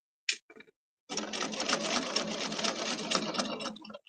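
A sewing machine stitches a table runner, with a couple of brief clicks and then a steady, close whirring run of stitching for about three seconds before stopping.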